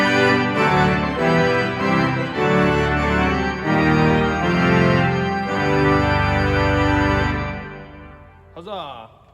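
A pipe organ plays on its full great division, with the chamade off, in a loud, sustained run of rich, bright chords, followed by a faint reverberant tail and a brief voice at the end.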